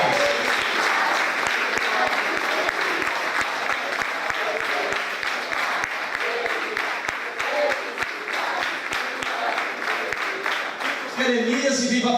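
A Baptist church congregation claps at a birthday service, with sustained, dense applause running for several seconds, loud and even, before tapering, and speech faintly present at the end.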